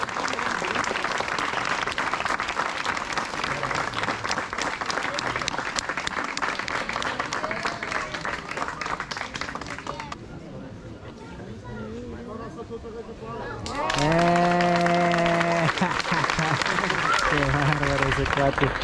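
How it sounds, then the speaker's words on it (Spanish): Audience applause for the Voladores de Papantla flying-pole ritual at Parque Xcaret, a dense, steady crowd clapping throughout, briefly dipping before swelling again with a voice speaking over it. "Un aplauso, qué bárbaro."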